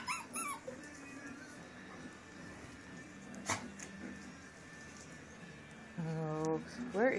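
Puppies whimper and yip in high, wavering whines, scattered at first and then a louder run of cries near the end, with a voice speaking softly at times.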